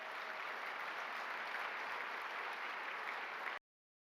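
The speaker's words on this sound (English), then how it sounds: "Let's give him another round of applause" Steady crowd applause at an annual award dinner honoring a recipient, dense even clapping filling the room for over three seconds and then cutting off abruptly.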